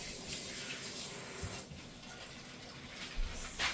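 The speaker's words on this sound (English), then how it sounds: "I'm going to add a little tiny bit of water to this because there's a lot of sofrito left in this bag." A little water is poured into a bag of leftover sofrito, making a soft, continuous running and splashing sound with faint rustles. It is quiet, and no one talks.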